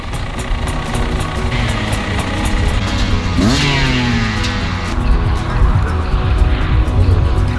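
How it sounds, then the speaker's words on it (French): A motorcycle engine runs loudly and steadily without warm-up, at an enduro race, with a rising rev in the middle and continuous mechanical droning throughout. "Là j'ai pas fait chauffer le moteur"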